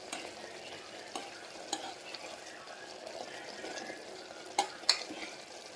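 Drumstick curry with added chilli powder cooks in a pan, a soft continuous sizzle and bubbling broken by several sharp stirring scrapes and clacks of a spoon against the pan.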